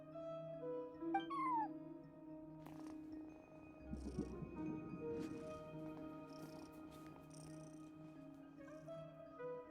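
Cat meows come from a cat guarding a front desk in the Genshin Impact video game, several short mews over soft ambient game music with sustained tones, moderately close and clear.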